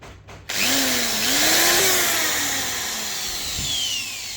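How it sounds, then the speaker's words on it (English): A power drill bores a hole in the inner fairing panel of an RS 457 motorcycle, the motor whining up sharply then holding a loud, close, steady grinding tone that slowly sags as the bit cuts through. "To install it, I need to drill a hole on this panel."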